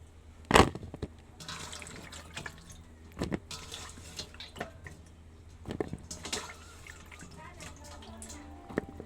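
Chunks of bottle gourd washed under running water in a kitchen, a steady close splash and trickle with a few sharp knocks, no talking over it.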